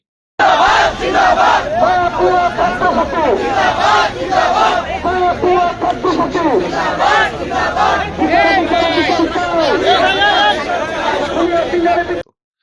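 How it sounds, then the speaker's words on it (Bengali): A protest procession at Dhaka University demanding Sheikh Hasina's execution, a loud crowd chanting in rhythmic call-and-response waves of shouted voices that continue without a break, close and dense throughout. "ঢাকা বিশ্ববিদ্যালয়ে তার ফাঁসির জন্য মিছিল"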